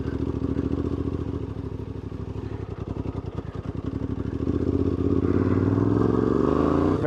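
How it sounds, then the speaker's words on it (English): A CFMOTO 450MT IBEX motorcycle crawls along in second gear at about 1200 RPM on the smallest throttle, its engine thumping low and close in a steady pulse that rises slightly toward the end, with no talking. "so we're crawling along here in second gear, about 1200 RPM,"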